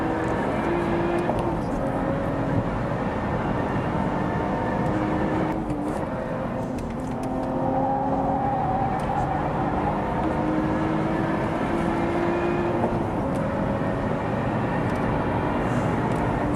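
A Lotus Evora Sport 410 accelerates hard on a race track, its engine a loud, continuous close roar with rising tones, briefly dipping before pulling strongly again.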